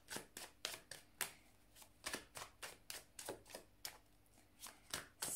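Tarot cards are shuffled and pulled in a quick run of crisp, papery snaps and flicks, close and fairly quiet, with short pauses between bursts.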